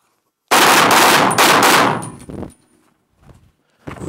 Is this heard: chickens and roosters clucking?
no